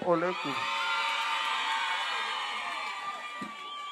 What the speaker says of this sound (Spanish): Aplauso para el rey